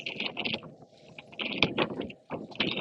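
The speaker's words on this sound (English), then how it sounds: "So it's a little windy here again." Gusty wind buffets the microphone at the end of a pier in Rotterdam, rough bursts rising and dropping unevenly, loud and close.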